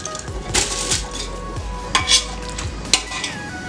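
Soaked basmati rice tipped into a pot of boiling water for country chicken dum biryani, with a few clinks and scrapes of utensils against the pot over a steady bubbling simmer.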